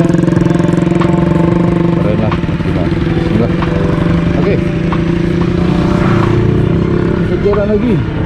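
Honda CRF 250 Rally motorcycle engine idling and revving with a steady close drone, while people talk over it.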